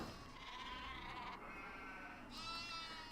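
Sheep bleat during shearing in the Nancy Drew game Haunting of Castle Malloy, several overlapping calls in a steady rhythm close by over a continuous background, with no talking.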